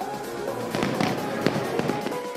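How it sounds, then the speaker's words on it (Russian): Fireworks burst over the 2017 Dubai World Cup horse racing event at Meydan, a rapid series of loud crackling pops and bangs layered over a constant crowd and outdoor roar. "Сейчас за моей спиной потрясающий салют."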